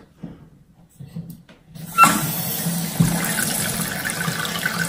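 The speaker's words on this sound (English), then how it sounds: "Now I'm gonna turn the water on" Toilet tank begins refilling after a fill valve replacement, a faint quiet stretch giving way to a steady hiss and rush of water rising in the tank, close and continuous.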